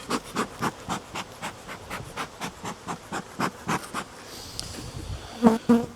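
Honey bees buzz around an angry hive in rhythmic, pulsing bursts, close and fairly loud, with a few sharper knocks near the end.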